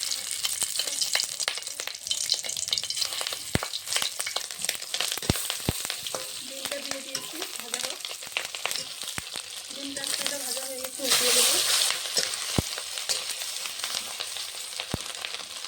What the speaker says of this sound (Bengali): কড়াইতে ডিম ভাজার জন্য সর্ষের তেল দিয়ে দিয়েছি ডিমগুলো ভেজে নেবো